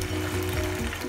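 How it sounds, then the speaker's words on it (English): Chilli garlic soya chunks simmering in a pan, a steady close sizzle and bubbling with a low mechanical hum underneath, continuous and even throughout without any talk. "They have been simmering for another 2 minutes now"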